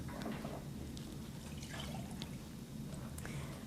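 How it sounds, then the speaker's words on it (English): A measured ingredient is poured into beaten eggs in a mixing bowl during a kids' cooking session. It makes a soft, steady liquid trickle that lasts a few seconds, faint and close, with no talking. "So go ahead and pour that in with the eggs."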